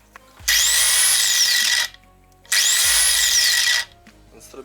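A repaired Zubr 115 mm angle grinder (model 115/600) spins up twice, each run a loud steady high-pitched whine lasting over a second with a slight pitch sweep, separated by a short silence as it winds down.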